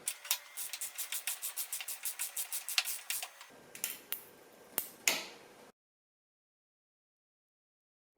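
Rapid mechanical clicking of a torque wrench ratcheting down bolts fitted with very thick washers on a Yamaha RZ350 motorcycle swingarm, a quick run of clicks followed by a few slower, sharper clicks, then silence.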